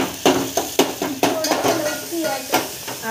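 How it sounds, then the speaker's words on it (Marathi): Moth beans and rice with turmeric are stirred in a pot, loud clattering spoon scrapes and knocks against the metal in an uneven rhythm over a light sizzle, with no talking. "थोडं हलवायचं."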